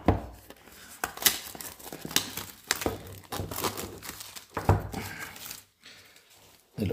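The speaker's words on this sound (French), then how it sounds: "j'utilise mes jolis ongles pour couper le cellophane" Fingernails scratching and tearing the cellophane wrap off a Poco M3 Pro phone box, a close run of crinkling, crackling rips and rustles with short pauses between bursts.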